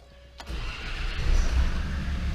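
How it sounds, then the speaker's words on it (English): A Land Rover Discovery 2 TD5 diesel engine cranks once and catches, settling into a rough, loud idle that rumbles steadily to the end. "Start her up, see what lights stay on."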